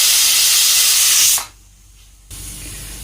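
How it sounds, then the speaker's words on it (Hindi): A pressure cooker with chana and masoor daal lets out a loud, steady steam hiss for more than a second. The hiss cuts off abruptly, and a fainter low rumble follows. "तकरीबन आपको 5 से 6 सीटियाँ चाहिए इसमें"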